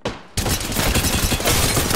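Dense, continuous video game gunfire in a squad firefight, a rapid fusillade of shots that bursts in loud and close after a brief quieter moment and keeps hammering without pause.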